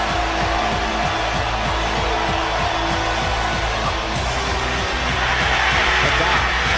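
A loud stadium crowd at a Saints football game roars in a dense, continuous wash of noise that barely changes level throughout.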